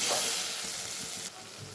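Spice paste with chili powder fries in hot oil, a close, continuous sizzle and hiss that drops slightly in level partway through.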